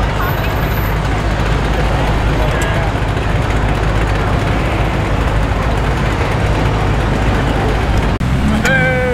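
A car pulls away from a car show in Homebush, Sydney, with a loud, continuous engine roar and road rumble up close. Other traffic is around, and people talk at the end.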